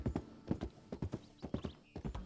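Horse hooves clip-clop on a bridge in the Red Dead game, a steady series of close, crisp hoof strikes in pairs, heard alone without talk.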